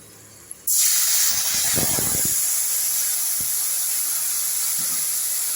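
Tamarind water hits a hot wok of oil tempered with mustard seed and five-spice, bursting into a loud, sudden steam hiss that settles into a sustained sputtering sizzle.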